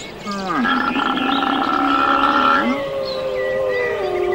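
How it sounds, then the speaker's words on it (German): Wolves howl in the mountains, long rising and sustained wavering tones with several voices overlapping, fairly close and loud, trailing off into a lower howl. "Findest du, dass die Wölfe beunruhigt klingen?"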